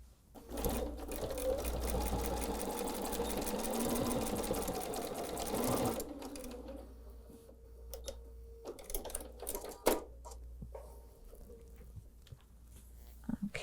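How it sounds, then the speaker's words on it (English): A sewing machine runs a continuous basting stitch on a quilted hot pad for about six seconds, a steady close whir, then stops, leaving light handling clicks and rustles. "I'm just going to go do a basting stitch about 1/8 of an inch."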